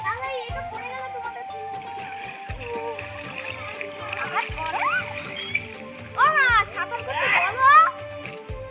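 Someone swims in a village pond at dusk, and water splashes and sloshes in bursts while children and adults chatter and call out nearby.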